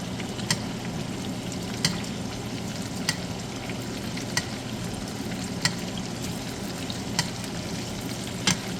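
Steak sizzles in melted butter in a hot pan, a loud continuous fry crackle with sharp ticks and pops at regular intervals, close up with no talk.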